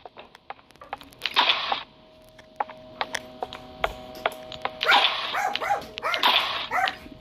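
A dog barks close by in several sharp bursts, with a short cluster early and a louder run of repeated barks later, over a faint steady hum and scattered clicks.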